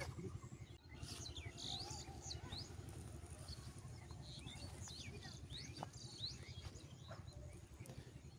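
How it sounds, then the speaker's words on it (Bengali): Birds chirp and tweet by a village riverside in scattered, faint calls over a steady hum of insects and low outdoor rumble. "কি সুন্দর পাখির কিচির মিচির করতেছে।"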